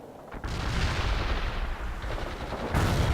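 Gunfire in the World in Conflict video game, a dense, continuous barrage of booming shots and rumbling blasts that swells sharply near the end, loud and close, with no talking.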